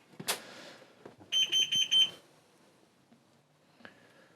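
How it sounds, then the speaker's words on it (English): Four quick, shrill electronic alarm beeps sound in a row from a diesel heater amid faint clattering, followed by a brief tone near the end. "I think the incessant beeping has finally stopped"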